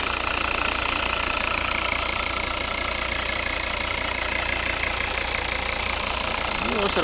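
A 2011 Volvo V60 2.0 D4 diesel with automatic transmission idles steadily, an even, low knocking hum with faint background noise throughout.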